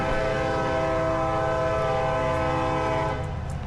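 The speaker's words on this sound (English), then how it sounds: "there would be a train going by as soon as I get here" A passing train sounds a loud, sustained horn chord up close for about three seconds, the blast cutting off near the end over the heavy rumble of the moving cars.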